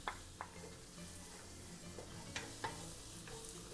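Chopped rehydrated dried red chilies fry over medium heat in a wok, a steady sizzle broken by several sharp clinks and scrapes of a stirring utensil, close and fairly quiet throughout.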